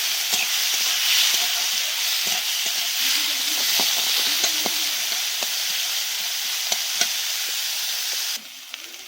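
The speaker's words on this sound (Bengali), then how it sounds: "দেখতে পাচ্ছেন থোড়টা ভাজা ভাজা হচ্ছে" Shredded banana stem, salted and coated with turmeric, sizzles steadily in a pan while being stirred, with a constant frying hiss and occasional scraping clicks; no talking.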